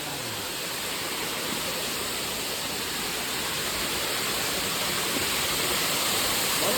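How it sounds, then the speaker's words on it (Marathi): Amboli waterfall in Konkan during the rains, a powerful cascade roaring as steady, loud broadband rushing water that fills the whole span without pause, with no voices over it. "मस्त मारे धबधबो"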